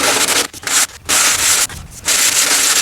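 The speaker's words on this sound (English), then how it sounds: "when we glue sandpaper to this, we can then use this to round off the fretboard." Sandpaper glued to a radius block rubbing back and forth over a guitar fretboard to round it, loud close steady scraping strokes with three brief pauses between them.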